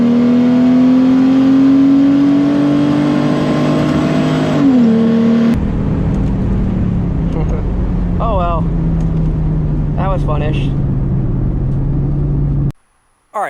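Mercedes SLK32 AMG accelerating hard at a drag and roll race at Orlando Cars and Coffee, a loud, close, sustained engine drone climbing steadily in pitch with a gear change partway through, voices faintly underneath.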